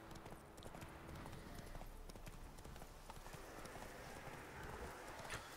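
Hooves clip-clop rapidly and continuously in a fast gallop in the video game The Witcher 3: Wild Hunt, fairly faint, with no talking over them.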